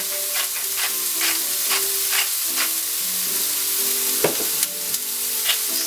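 Finely chopped vegetables for a squid stuffing, seasoned with salt and black pepper, sizzle steadily in a hot pan as a spoon stirs them with repeated scraping strokes and a few sharper knocks, with no voices.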